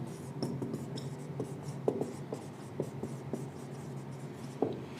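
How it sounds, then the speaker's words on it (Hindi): Chalk or marker scratching across a board in a class lecture, with steady strokes and sharper taps over about five seconds, close and moderately quiet. "मैं यहां पर छोटा सा एक डायलेशन फेज लिख देता हूं आप लोगों के लिए"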